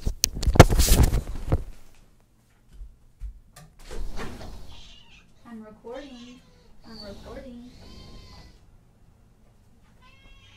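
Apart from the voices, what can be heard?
cat meowing to come in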